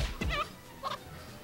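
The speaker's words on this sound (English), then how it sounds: "Alright, giant chicken number two." Giant chicken enemy cry in the video game Arc Rise Fantasia: two brief, faint gobbling bird calls separated by a short pause, with no speech.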